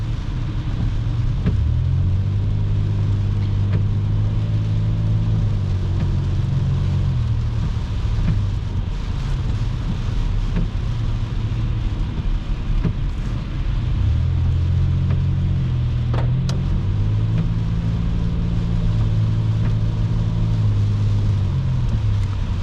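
Heavy highway traffic full of semi-trucks, heard from inside a moving car as a constant low road rumble and engine drone, with deeper swells as large trucks pass close by.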